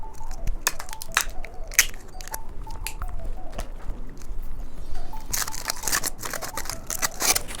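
An earth-shaped gummy candy in a wrapper chewed up close, with sharp clicky squishes and small crunches in an irregular rhythm, fairly loud and nearby, without speech.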